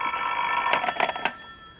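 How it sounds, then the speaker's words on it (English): An old-fashioned telephone bell rings as a radio drama sound effect, a steady metallic trill in a few bursts before fading, heard alone without talk. "The telephone sounded like it was ringing miles away."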